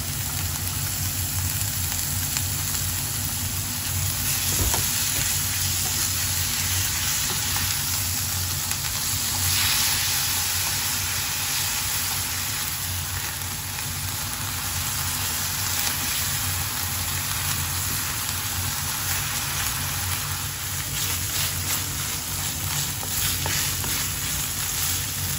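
Ground pork frying in a pan with chopped onion, a steady broadband sizzle that holds at an even, close level throughout with no talk over it.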